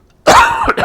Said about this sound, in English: Which then makes me cough.